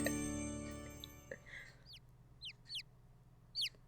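Short squawking bird cries from the video game The Great Ace Attorney Chronicles, four or five quick chirps spaced apart, following a low sustained musical tone that cuts off.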